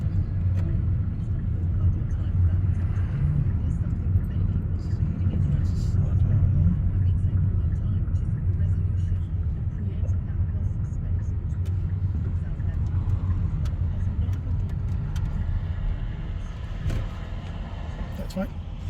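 A learner driver's car on a public road gives a steady, loud low engine and tyre rumble from inside the cabin, continuous throughout with little change.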